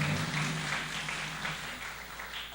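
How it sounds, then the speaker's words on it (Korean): Steady applause from a church congregation during a Sunday morning service, a continuous wash of clapping at moderate volume, with no talking over it. "우리 박수 한번 해주시기 바랍니다"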